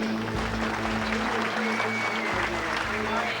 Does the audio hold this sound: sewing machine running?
no